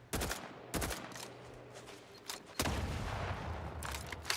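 Rapid bursts of gunfire in The Outer Worlds 2, loud and dense, with sharp volleys at the start and a sustained rattling barrage through the rest.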